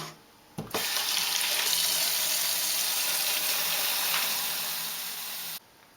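Water is poured in a steady, continuous stream into a pressure canner while preparing to can beef, a bright rushing splash that starts abruptly, holds for about five seconds and cuts off.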